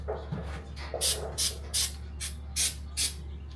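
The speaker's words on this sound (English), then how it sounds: "I'll just hit it with a little rubber undercoating here" A spray can of rubber undercoating hisses in about six short, evenly spaced bursts over a freshly drilled, deburred hole in a Dodge Ram 3500 truck bed, close and distinct over a low hum.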